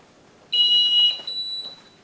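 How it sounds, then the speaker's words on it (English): A walk-through archway metal detector at an airport security checkpoint sets off a steady electronic alarm tone as a male passenger passes through, sounding for about a second and a half and then continuing a little softer. "Here, a male passenger causes an alarm."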